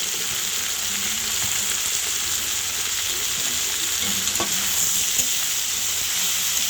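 Kochur loti with prawns, chili powder and a little sugar being stirred together in a pan, a dense, steady hiss of frying with occasional scraping from the spoon.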